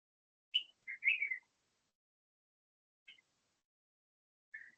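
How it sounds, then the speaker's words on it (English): Birds chirp outdoors in a quiet setting, a few short, clear tweets in a quick cluster followed by two isolated calls, fairly faint with silence between. "Birds are going crazy behind you today."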